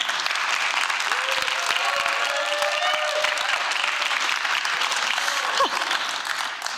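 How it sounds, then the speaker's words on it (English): A theatre audience at a poetry reading night applauds, a full sustained burst of clapping with a few whistles and cheers above it. "just give him some love with a round of applause."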